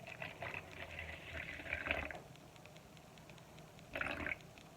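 Water pours faintly into a mixing cup sitting on kitchen scales, in two short splashing bursts with a quiet pause between them.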